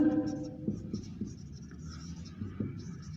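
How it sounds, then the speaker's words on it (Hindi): Chalk-like scratching of writing on a board during an agriculture engineering lecture on tillage, a few quick strokes and taps close by over a low room hum. "तो मैं यहाँ पे लिख रहा हूँ"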